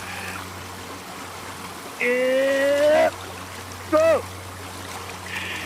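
Creek water flows in a snowy Washington creek as a steady, close rushing hiss that runs throughout, with a man's brief loud calls breaking in twice over it.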